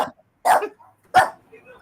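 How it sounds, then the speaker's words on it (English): A dog gives two short, sharp barks about half a second apart, separated by near silence, with a faint cough-like sound at the very start. "That really is a real dog bark."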